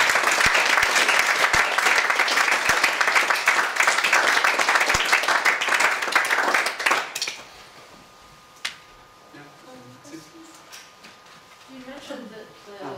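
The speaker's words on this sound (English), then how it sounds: "I think that deserves a round of applause" An audience at a talk on the Syrian crisis breaks into loud, sustained applause for about seven seconds, then it stops abruptly and quiet speech follows in the room.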